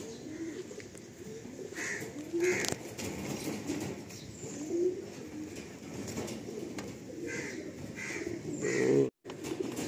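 Young Andhra Lalsira Star Kalanka pigeons give soft, brief coos and low calls at intervals close by, over a faint rustling background.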